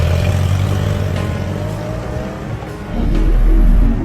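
A motorcycle engine drones loudly, dips briefly, then surges in a rising rev as the rider speeds away, with no voices over it.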